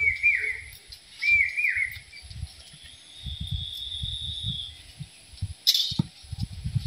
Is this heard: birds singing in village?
yes